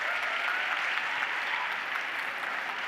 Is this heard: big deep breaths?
no